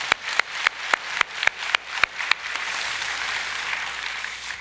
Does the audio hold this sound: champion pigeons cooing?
no